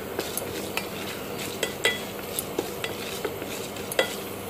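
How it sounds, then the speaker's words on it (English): Mustard seeds and gram dal sauté in a pan, a soft continuous sizzle punctuated by sharp spoon taps and scrapes every half second or so, with no talking. "Saute well till the mustard seed starts fluttering and gram dal turns golden color."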